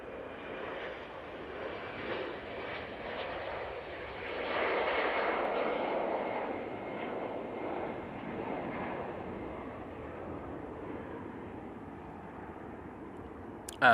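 An EasyJet airliner at Manchester Airport produces a broad, rushing engine roar that swells in the middle and then holds steady, heard from a moderate distance.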